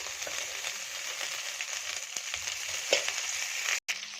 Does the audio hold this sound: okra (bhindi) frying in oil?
yes